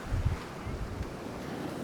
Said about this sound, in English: it's a little windy here, some gusts